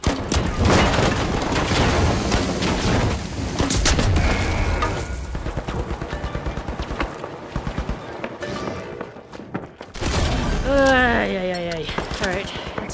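A frag grenade explosion in the shooter game The Finals, a heavy boom amid a dense barrage of gunfire and combat noise, with players talking over the action throughout.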